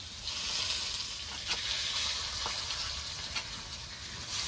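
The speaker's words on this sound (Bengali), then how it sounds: "শুকনো লঙ্কা বাটা দিয়ে দিয়েছি, এবার একটু নেড়ে চেড়ে ভালো করে কচু আলুটা কষিয়ে নেবো।" Taro and potato pieces fry steadily in hot oil with dried chili paste, already seasoned with salt and turmeric, giving a continuous close sizzle with occasional stirring scrapes and no talking.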